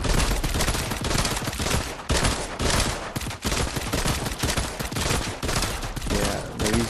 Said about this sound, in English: they're using silence pistols, dual pistols